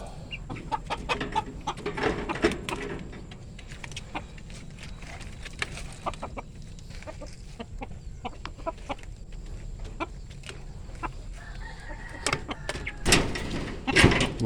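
Chickens cluck repeatedly at close range during feeding, with scattered sharp knocks and rustling around them and a louder burst of clucking near the end.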